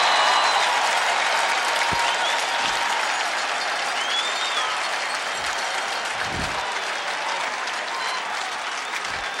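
A stadium crowd at a 1994 NCAA men's lacrosse game between Syracuse and Loyola cheers and applauds in a continuous dense wash of noise, with a few low thumps and a voice heard faintly through it.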